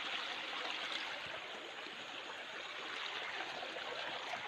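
Waterfall at a swimming spot pouring steadily into a stream, a dense continuous rush of flowing water close by with no pauses.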